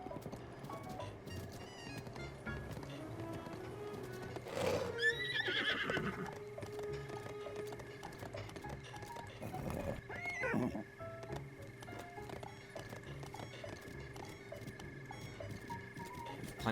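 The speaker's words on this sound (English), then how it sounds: "I need to get my horse up this hill." Horse in the video game Breath of the Wild, with hoofbeats clopping as it moves and two loud whinnies in the middle, set against a steady low ambient hum.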